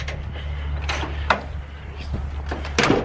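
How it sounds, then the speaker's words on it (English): Vehicle door shut by hand outdoors before a road trip, heard as a couple of brief thuds and clunks over a steady low engine-like hum, with faint movement noises around. "Close this door."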